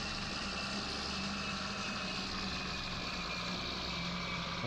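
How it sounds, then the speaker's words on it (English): A tractor engine in Farming Simulator 19 runs steadily at idle, with a continuous low rumble and a droning hum that hold at an even, moderately loud level. "I haven't had this much fun driving a tractor in quite a while, actually"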